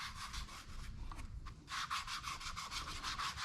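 A polishing pad loaded with polishing compound rubs over a curbed Tesla wheel in quick, rhythmic bursts of gritty scrubbing that stay close and steady.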